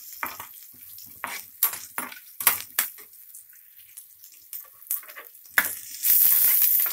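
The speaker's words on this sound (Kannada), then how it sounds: "ಸ್ವಲ್ಪ ಫ್ರೈ ಆಗಲಿ ಈರುಳ್ಳಿ." Onions fry in a pan with a bright sizzle, broken by repeated scraping stirs in short bursts and a louder hiss near the end, with no voices.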